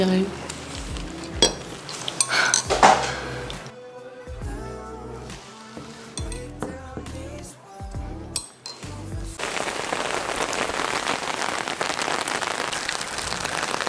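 Steady rain patters and hisses on a hard surface, growing into a dense, continuous downpour toward the end, with scattered clatters and knocks early on.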